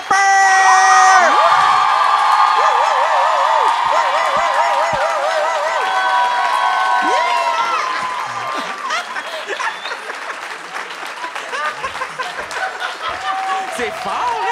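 A live studio audience in Montreal cheers, whoops and applauds loudly as two guests come onstage, a dense roar that dominates the opening seconds before easing off and continuing as a lighter, ongoing crowd noise behind speech.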